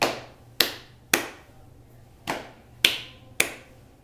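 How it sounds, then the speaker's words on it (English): Six sharp percussive hits spaced about half a second apart, close and distinct, hands slapping the top of the legs and lap followed by two claps in a group rhythm game, with no voices. "let's start by slapping our hands on our legs, the top of our legs and our lap. And we'll clap twice"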